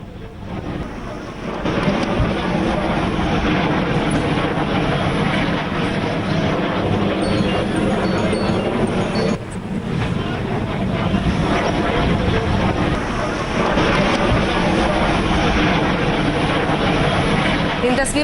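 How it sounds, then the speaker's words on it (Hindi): Rafale fighter jets at Ambala airbase roar as a continuous, broad, heavy wash of engine noise that stays loud and steady throughout, with only a brief dip partway. "जरा सुनाते हैं ये गर्जना और राफेल विमान अंबाला में जो दिखाई दे रहा है"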